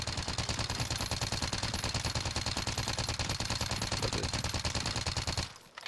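Sustained fully automatic fire from a gun in Warzone, a fast, even stream of loud shots that runs for several seconds and then stops abruptly.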